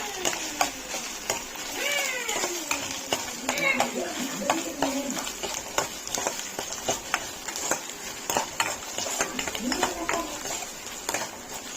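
Onions and ginger-garlic paste sizzle and crackle steadily in a hot pan, with frequent utensil taps and stirring, while a person talks over it.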